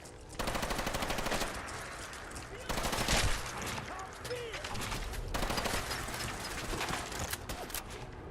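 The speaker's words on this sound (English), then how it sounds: "Why are you shooting me and not the Mirelurks who were trying to kill you?" Gunfire in the video game Fallout 4 comes in rapid automatic bursts, loud and close, broken by brief pauses, with background game noise and a voice speaking over part of it.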